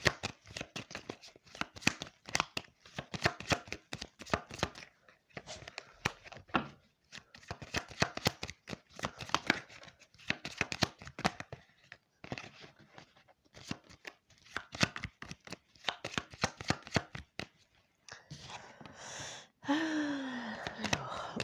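Tarot cards shuffled by hand in quick, steady riffling flurries with brief pauses, close and fairly quiet, ending with a final card drawn and laid down.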